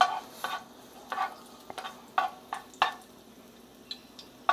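Giant tiger prawns stir-fry in hot oil, with a steady sizzle broken by repeated scraping and tossing strokes of a utensil in the pan, close and moderately loud with no voices.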